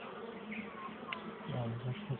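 Many bees buzz in a steady, soft, close hum that wavers slightly in pitch, with no other clear sounds.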